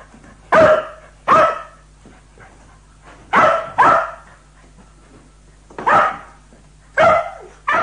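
A dog barks loudly and close by, in paired barks with pauses between them, about seven barks in all, with no talking over them.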